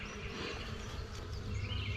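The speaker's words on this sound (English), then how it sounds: "we've got 9 frames of bees down there" Honey bees buzzing in an open hive with nine frames of bees, a dense, continuous close-up drone with a faint rougher hum underneath.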